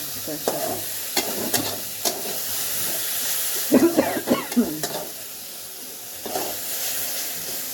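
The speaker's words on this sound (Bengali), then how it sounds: "এই দেখো এখানে উচ্ছে ভাজা বসিয়েছি" Bitter gourd frying in oil in a pan on a home stove, a continuous close sizzle broken by bursts of louder crackling and stirring scrapes, with no talking.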